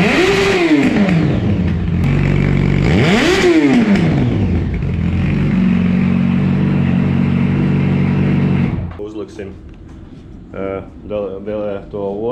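A Yamaha FZ1 motorcycle engine, just after winter storage, revs loudly and closely in two rising-and-falling sweeps, then settles into a steady idle and cuts off, followed by a few faint clatters and sounds.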